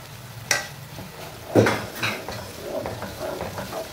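Yogurt is spooned into a pan of mixed vegetables: a sharp spoon tap on the pan's rim, then a soft wet plop and light scraping, close and fairly quiet.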